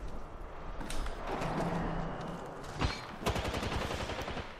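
Apex Legends gunfire in the Shadow Royale mode: rapid volleys of shots rattle steadily over a busy battle din, with a couple of sharper, louder cracks near the end.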